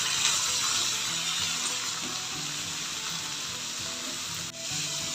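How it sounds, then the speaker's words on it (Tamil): Green chilies, tamarind, onion and coriander sauté in a pan for coriander chutney, making a continuous close hiss and sizzle with faint stirring scrapes throughout, and no one speaking. "பச்சை மிளகாய், புளி, வெங்காயம் நல்லா வதக்கிட்டு கொத்தமல்லி சேர்த்து வதக்கி எடுத்துக்கலாம்."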